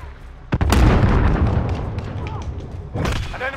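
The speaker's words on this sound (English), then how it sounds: "Now I hear gunfire." Gunfire in Call of Duty: Warzone, with a heavy booming burst that rolls on loudly, then a second sharp report near the end, all under game sounds.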